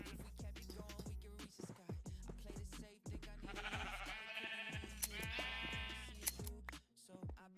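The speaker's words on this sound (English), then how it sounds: "Ooh, we got some rainbow ass sheep." Sheep in Zelda: Breath of the Wild bleat repeatedly with wavering, quavering calls, dense and overlapping near the middle, set against steady rhythmic game music with plucked beats.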